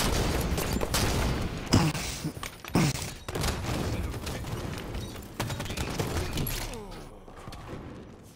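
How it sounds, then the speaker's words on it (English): Grenade explosions in the Halo 5: Guardians video game, a dense barrage of booms and blasts with a couple of heavier thumps around the second and third seconds, loud and continuous over the whole stretch. "That's a lot of grenades right there."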